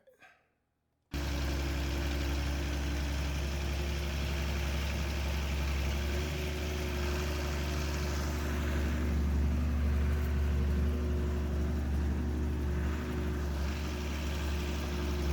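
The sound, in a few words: tractor engine running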